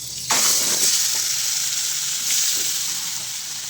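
Ground flat bean paste with spices hits a hot wok and sizzles loudly and steadily up close after a sudden onset, with no talk.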